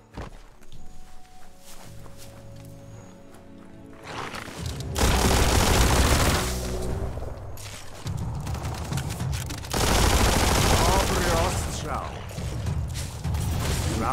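Bursts of rapid gunfire and mechanical clatter in the video game Biomutant, loud and close, separated by quieter stretches with footsteps and ambient hum.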